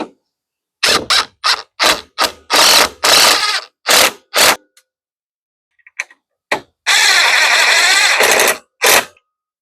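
Ratchet wrench tightening the bolts on a rear rack and bumper of a 2023 Polaris Sportsman 1000 ATV, loud close bursts of rapid clicking repeated in short strokes, then a longer run of ratcheting near the end.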